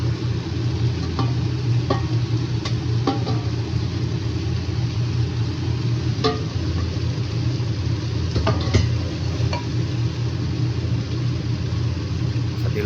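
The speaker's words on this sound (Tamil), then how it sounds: "நம்ம லைட்டாக அதை வந்து கிண்டி விட்டுக்கணும்" Chicken feet, liver and heart soup being stirred in a pot, with soft scraping clinks and a low steady simmering rumble running throughout, fairly quiet and close, no one talking.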